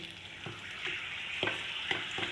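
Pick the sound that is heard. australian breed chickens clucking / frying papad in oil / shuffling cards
frying papad in oil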